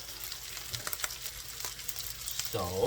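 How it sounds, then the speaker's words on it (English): Cold overnight rice tipped into a hot pan for shrimp fried rice sizzles softly and steadily, with a few light scraping clicks and a brief voice near the end. "I'm just gonna add in the rice"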